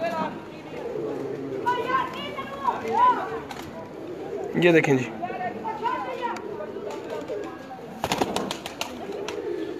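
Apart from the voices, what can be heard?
pigeons cooing in a loft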